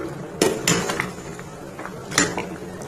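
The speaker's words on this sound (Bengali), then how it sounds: "ভালো করে হাতা দিয়ে মিক্স করে নিচ্ছি।" A ladle stirs chicken mixed with soybean, potato and tomato spice paste in a cooking pot, giving a few sharp metallic scrapes and clinks against a low background hiss.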